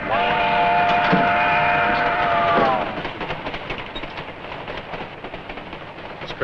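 A loud, sustained train whistle sounds for a few seconds, then cuts off, leaving the rattling rumble of a moving train.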